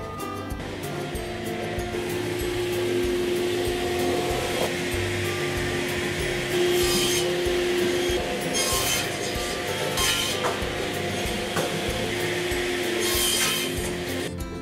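Wooden boards for a DIY coffee table are cut with a steady, raspy, rubbing stroke that repeats and swells in a few stronger bursts, running continuously with no voices.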